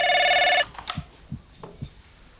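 A telephone bell rings loudly for just over half a second, then stops, followed by a few soft knocks and handling sounds indoors.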